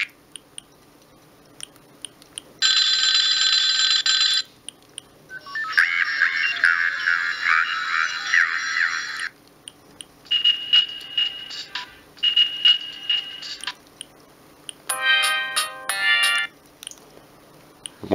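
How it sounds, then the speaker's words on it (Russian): Several different ringtone melodies from a Siemens S65 mobile phone play one after another, each a short bright electronic snippet separated by brief silences, close and clear with no talking. "Можно выбрать мелодию, которая будет стоять на звонке"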